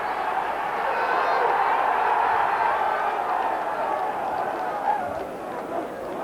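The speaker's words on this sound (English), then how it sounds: "the crowd on this side are on their feet applauding what they thought was a goal" A football crowd at a 1991 FA Cup match rises to its feet applauding, a broad sustained roar and clapping that swells steadily and dominates throughout.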